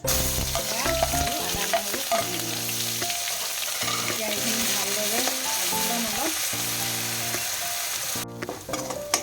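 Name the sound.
onion, ginger and garlic frying in hot oil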